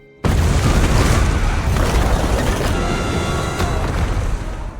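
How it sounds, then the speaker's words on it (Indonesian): A sudden loud explosion bursts out, then a heavy roaring rumble of a collapsing dome ceiling carries on without pause. "terjadilah ledakan yang meruntuhkan langit-langit dom"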